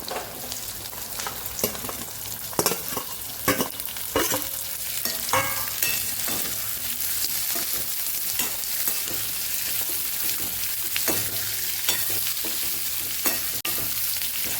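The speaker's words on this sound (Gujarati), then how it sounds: "તો અહીંયા થોડી આપણી ડુંગળી સતળાઈ જાય પછી આપણે તરત એમાં કેરી ઉમેરી દઈશું" Onion sautéing in a pan for a Kathiyawadi raw mango curry, a steady frying sizzle broken by repeated scraping strokes of a stirring spoon, close and fairly loud with no talking.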